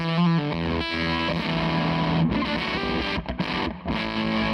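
Electric guitar through a Zander Circuitry Cafetiere pedal at full voltage, thick distorted chords and riffs played loud and present with a gritty saturated tone, a few brief gaps between phrases.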